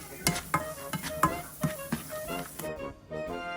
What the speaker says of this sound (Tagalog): and then you have to stir it